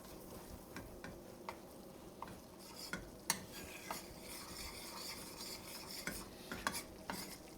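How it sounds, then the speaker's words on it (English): Butter and flour roux being stirred in a pan, giving a steady scraping swish with scattered light clicks of a utensil against metal, close and fairly quiet, with no talking. "Now what I like to do is I like mixing the roux."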